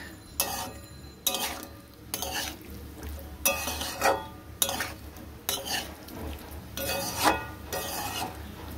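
Lightly fried paneer gets stirred with spice masala in a pan for a paneer and green peas dish, about eight rhythmic bursts of scraping spoon strokes over a soft low sizzle, close up and without talk.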